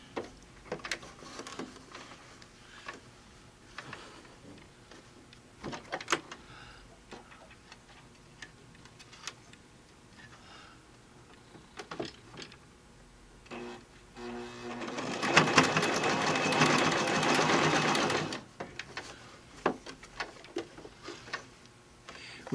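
A sewing machine stitching badly, with irregular ticking clicks from the mechanism and then a louder, steady whirring run of a few seconds before the ticking returns, close and without talk.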